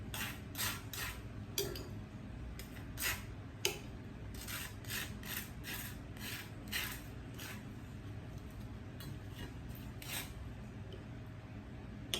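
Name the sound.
butter being spread on bread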